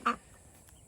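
A duck gives a single short quack close by, near a backyard chicken run with a plastic coop, followed by quiet.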